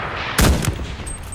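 A single sharp gunshot in the video game Enlisted, a loud crack followed by a shorter echoing report and a fading tail, alone over quiet background noise.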